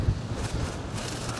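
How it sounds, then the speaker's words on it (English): Wind buffets the microphone beside the River Mersey in a brief, low, rough rumble that stays loud throughout the short moment. "Sorry about the wind, guys."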